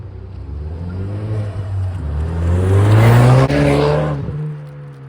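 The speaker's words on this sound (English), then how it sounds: "the exhaust tone is pretty reasonable. It's way better than it was stock" A Ford Mustang fitted with a custom aftermarket exhaust revs up, its engine note climbing to a loud, raspy peak before dropping back to idle, close by, with no talking.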